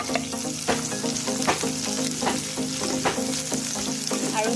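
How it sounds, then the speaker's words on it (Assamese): Chopped onions fry on a medium flame for ghee rice pulao, giving a steady, close sizzle with scattered sharp crackles and light stirring clicks throughout. "মিডিয়াম ফ্লেমত ধুনীয়াকৈ ব্ৰাউন হোৱাকৈ ভাজিব লাগিব"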